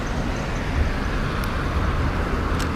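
Kawasaki ER6N motorcycle engine droning steadily with a heavy low rumble amid early-evening city traffic, loud and close, with no talking.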